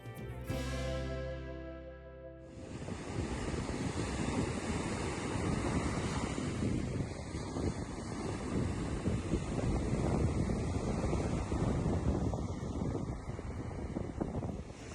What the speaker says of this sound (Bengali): এবার চলুন সমুদ্রের এই মন ভোলানো দৃশ্য আর এই ঢেউগুলা উপভোগ করতে করতে